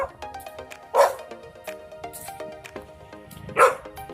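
A dog barks twice, loud and close, with sharp separate yelps over a background of music.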